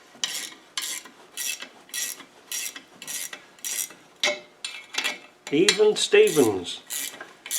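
Ratcheting spanner working on a Land Rover LT77 or R380 gearbox, a series of short rasping clicks in a steady rhythm, followed by harsher metallic scraping, with a brief spoken phrase over it.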